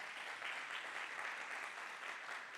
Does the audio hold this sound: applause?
yes